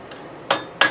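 Metal being forged by hand with a hammer, giving two sharp, ringing blows about a third of a second apart after a faint tap, close and clear with no talking.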